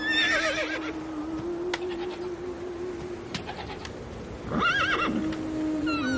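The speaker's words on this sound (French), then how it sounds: "Le cheval, cet animal fougueux, farouche et indomptable, était là, devant mes yeux" A horse whinnies and neighs in several loud, wavering bursts near the start and again toward the end, with birds cooing and calling faintly in the background.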